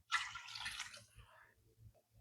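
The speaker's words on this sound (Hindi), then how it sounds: "ये देखिए हमने पानी डाल दिया इसमें।" Water poured from a bowl into a cooking pot for potato pea rice pulao, a short close splashing pour lasting about a second and then trailing off into faint drips.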